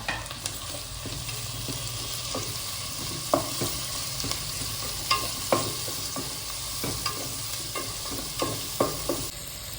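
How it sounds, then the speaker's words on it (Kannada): Tomato pieces fry with onions in a pan for Kundapura-style crab sukka, producing a constant crackling sizzle with repeated scraping taps from stirring, close and moderately loud. "ಇವಾಗ ಎರಡು ಟೊಮೆಟೊ ಪೀಸ್ ಮಾಡಿ ಇಟ್ಕೊಂಡಿದ್ದೇನೆ ಅದನ್ನು ಹಾಕ್ಕೊಳ್ತೇನೆ ಟೊಮೆಟೊ ಸ್ವಲ್ಪ ಫ್ರೈ ಮಾಡ್ಕೊಳ್ಳುವ"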